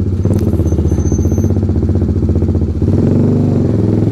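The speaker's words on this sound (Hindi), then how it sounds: "तो मैंने बाइक को लगा ली स्पोर्ट्स मोड पे" A TVS Apache RR310 motorcycle ridden in sports mode through narrow lanes, its engine droning loud and close with a steady buzzing pitch that shifts and rises after a brief dip.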